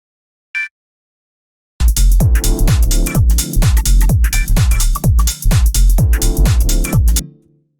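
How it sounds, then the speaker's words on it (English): Two sampled chord stabs for deep minimal house repeat in a choppy, rhythmic pattern with a deep bass pulse, loud and close, after a brief short blip at the start. "The next thing that we have here, these 2 chord stabs, which sound like this."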